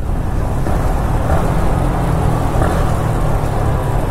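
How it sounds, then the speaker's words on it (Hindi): A motorcycle engine braking inside a tunnel on a ride near Pelling in west Sikkim, heard as a loud, steady low rumble that fills the enclosed space without a break. "वाओ द साउंड, एक बार इंजन ब्रेकिंग करके देख लेते।"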